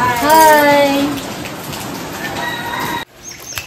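Rain falls during an outdoor gondhal ceremony, a dense steady patter across the clip, with a voice rising briefly at the start before the sound cuts off abruptly near the end.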